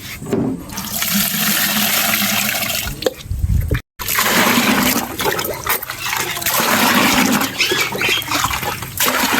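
Water gushes into a bucket and is mixed for a fermented fruit juice plant tonic. The pour is loud and close, splashing and churning, with a brief silent break partway through before it resumes.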